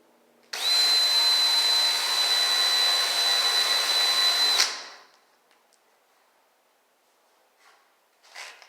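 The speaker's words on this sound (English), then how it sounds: "I drill a pilot hole" A power drill whines steadily at high pitch for about four seconds drilling a pilot hole into a spot weld on a 1968 Mustang rear frame, then cuts off, leaving near silence with a few faint clicks.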